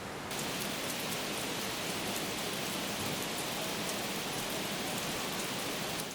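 Steady rain falls in the Seoraksan mountains at Oseam, a dense, even hiss of drops on surfaces that holds constant throughout with no voices.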